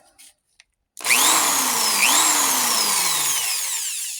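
Vintage Harbor Freight power saw starting up after a brief pause, then running steadily and loud with a high whine whose pitch rises and dips a couple of times under load.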